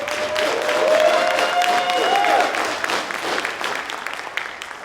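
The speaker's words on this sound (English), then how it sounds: "Give them a round of applause." Audience applause at an awards ceremony, a steady crowd clapping that swells and then slowly thins, with a sustained musical tone and some voices underneath.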